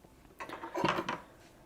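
Dry baking ingredients, including baking powder, salt and pumpkin pie spice, stirred together in a bowl for a pumpkin crumb cake, giving a short burst of close scraping and clinking that rises and fades within about a second.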